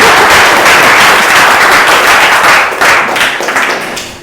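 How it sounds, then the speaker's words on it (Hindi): A live audience breaks into loud, sustained clapping at a comedy show about mobile phone manners; the dense applause runs steadily throughout and thins slightly toward the end. "बजाओ जोरदार तालियां एक बार"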